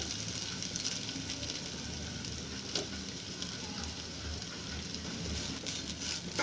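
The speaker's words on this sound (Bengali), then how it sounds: "বাদামটা দেওয়ার পর আমি ঘিয়ের সঙ্গে হালকা একটু ভেজে নিচ্ছি" Nuts and grated coconut fry in ghee, a soft, steady sizzle with faint crackles and occasional stirring taps, close and quiet throughout.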